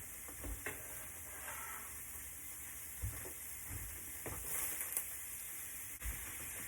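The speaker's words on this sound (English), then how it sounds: "Take all these onions and mushrooms that I chopped up and add them to my skillet." Chopped onions and mushrooms sizzle in a skillet with a steady broad hiss, broken by a few clattering stirs and bumps, close and moderately quiet with no talking.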